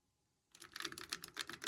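After a moment of near silence, typing starts up on a vintage Apple II computer keyboard: a quick, even run of close, crisp key clicks.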